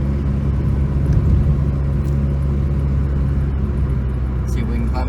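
A Geo Prizm is driven on a road test after transmission repair, its engine and road noise making a steady, loud, continuous rumble from inside the car, with a faint hum throughout.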